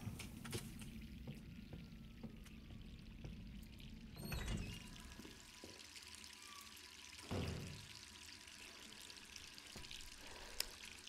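A tap runs in Resident Evil 3 as a faint trickle and pour, with two louder gushing bursts and scattered clinks in a quiet room, no voices.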